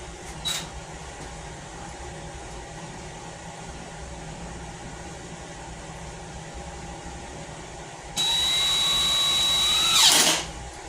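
A power drill drives screws, whirring steadily for a couple of seconds near the end, rising slightly in pitch before stopping, over a quiet background hum, while rebuilding a mobile home wall.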